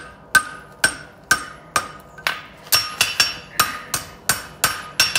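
A hammer rings again and again on a horseshoe heel against an anvil during farrier shoe-making. The blows are sharp, close and metallic, about fourteen of them, spaced evenly at first and then coming faster in quick pairs, with no talking.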